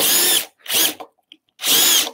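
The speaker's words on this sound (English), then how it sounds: "Back in with our drill." A power drill bores into wood to clear waste for a hand-cut mortice, running in three loud bursts of about half a second each, separated by short silent pauses.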